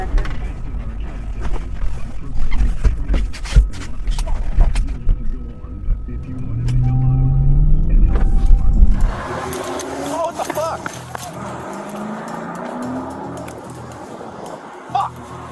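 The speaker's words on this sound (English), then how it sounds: "Sanchez jumps into the front of the patrol vehicle and simply drives away" A police patrol car pulls away and drives off, its engine note rising and sweeping while loud clattering and rumbling noise dominates, then the sound thins out and fades into a quieter, more distant hum.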